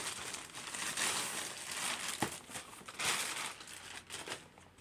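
Close, crinkly rustling of thin plastic, bursts of crackling and crumpling that come and go for several seconds, with no talking.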